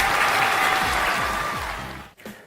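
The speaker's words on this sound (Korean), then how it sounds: "박수!" Children clap together at a kindergarten worship service, a loud steady burst of applause that fades out after about two seconds, followed by a brief quiet gap.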